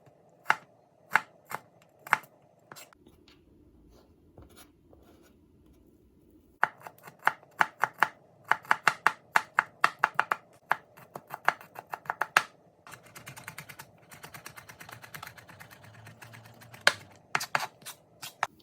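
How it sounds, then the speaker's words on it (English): A kitchen knife rapidly dices peeled garlic cloves on a cutting board, producing dense runs of sharp, close tapping chops with a brief pause between bursts, no talking. "So now we'll dice our garlic up."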